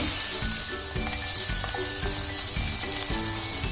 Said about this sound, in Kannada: ಈಗ ಈರುಳ್ಳಿ 2 ನಿಮಿಷ ಫ್ರೈ ಆದರೆ ಸಾಕು